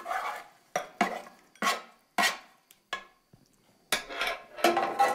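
Sauce is spooned into a bowl in a Tuscan catering kitchen, giving about eight sharp, close ceramic and cutlery clinks in irregular bursts with quiet gaps between them.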